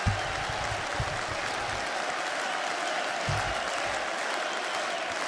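Audience applause for the comedy performer Clownvis, steady dense clapping throughout at moderate loudness, with a few brief low voice bursts and cheers rising over it.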